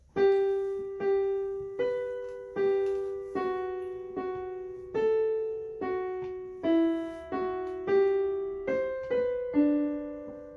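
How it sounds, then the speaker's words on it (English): A sketched-out song tune plays back as a sequence of about thirteen plucked, bell-like synth notes, each decaying quickly in an even, moderate melodic rhythm, clear and alone with no voices. "this is the first tune that I had sketched out"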